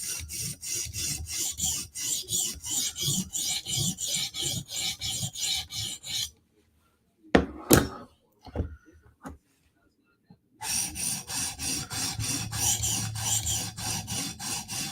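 Steady back-and-forth rasping of a Spyderco Slysz Bowie knife blade being sharpened on a stone toward a mirror finish, rhythmic close strokes that pause for a few seconds with small handling clicks, then resume.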